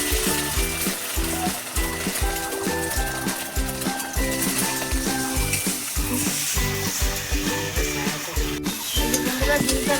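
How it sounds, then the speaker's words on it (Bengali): Beaten eggs with salt fry in oil in a pan, a steady close sizzle with rhythmic stirring scrapes running throughout. "ডিমটা আমি ভালো করে ভেজে নিচ্ছি"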